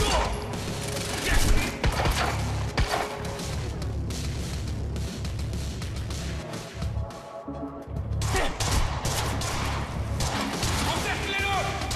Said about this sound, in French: Pourquoi est-ce que Monarque nous tire dessus?